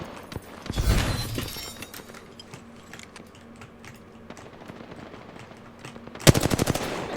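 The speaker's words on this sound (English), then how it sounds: "Some floaters shooting at me." Enemy gunfire in an arena shooter video game, with floaters firing at the player: a burst of rapid shots early on, a quieter stretch of scattered game sounds, then a loud, fast volley of shots near the end.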